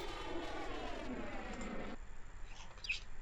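A plane's engine drones in a video game, a low, steady buzzing hum that drops away after a couple of seconds, leaving faint ambient noise and a brief high chirp near the end.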